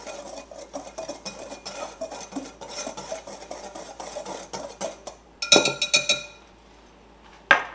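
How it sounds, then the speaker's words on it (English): A utensil scrapes and clinks in a bowl while dry crumble ingredients and salt for a blueberry rhubarb crumble are mixed. The brisk, rhythmic strokes end in a louder burst of clattering, then a pause. "And we'll mix that around real good here."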